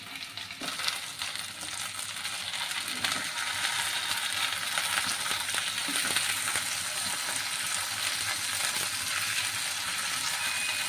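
Pomfret fish fry in oil in a kadai, a continuous, even sizzle close up, with occasional light metallic clinks from turning.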